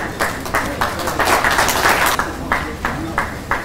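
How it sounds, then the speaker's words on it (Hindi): Crowd applause at a trophy mascot unveiling for the Women's Asian Champions Trophy 2023 hockey event, a steady wash of clapping with rhythmic bursts that swell and fade, with voices mixed in. "तालियां बजती रहनी चाहिए।"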